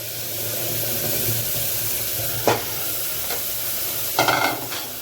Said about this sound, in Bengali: মশলাটা কষা হবে।